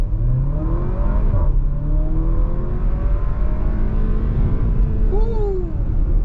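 A 2022 Porsche Macan base model launching from a standstill in sport mode with traction control off, its engine rising loudly through revs with a shift and climbing again, close and continuous, with faint voices beneath.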